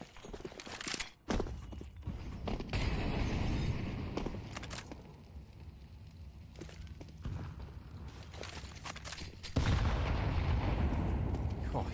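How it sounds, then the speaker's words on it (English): Grenades burst during a Counter-Strike esports match, with heavy booms and gunfire over a continuous game-audio bed and a sharp louder blast near the end. "Oh, huge nades, actually, for both parties."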